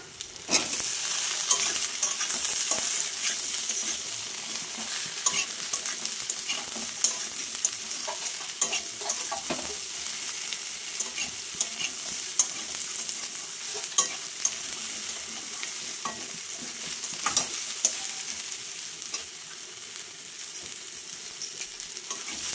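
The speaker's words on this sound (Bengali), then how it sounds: "পেঁয়াজটা অল্প করে একটু ভেজে তারপরে আমি কচুরলতিগুলো দিয়ে দেবো।" Chopped onion with taro stolons sizzles steadily in hot oil in a pan, with a spoon scraping and stirring at frequent irregular intervals throughout, fairly close and with no talking.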